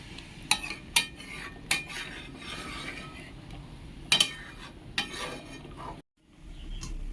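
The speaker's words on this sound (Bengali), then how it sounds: "একটু হালকা হাতে ভালো করে মিশিয়ে দেবো" Spices, onion and ginger being stirred in a pan, with sharp metal utensil scrapes and clinks at an irregular pace, close and fairly loud, before a brief silence near the end.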